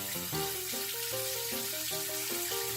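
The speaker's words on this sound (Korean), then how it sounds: "마리모를 먼저 이렇게 꺼내시고 이렇게 흐르는 물에 마리모를 씻어주시면 되는데" Tap water runs steadily while marimo moss balls are rinsed under a gentle stream, a continuous close splashing wash with music playing over it and no talking.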